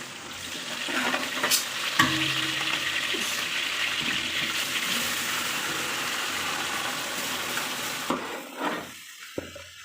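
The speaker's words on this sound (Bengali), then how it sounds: "এখন চাউলটা ঢেলে দিব।" Rice is poured into a pot of oil frying whole spices, cardamom, cloves and peppercorns, for mutton biryani, a rushing hiss that swells and holds for several seconds, then cuts off into near quiet.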